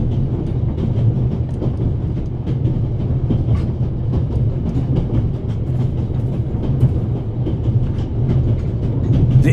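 A moving train in the video game The Raven Remastered, with a steady heavy rumble and rattling of the cars, a constant loud mechanical roll that carries on without pause and with no voices.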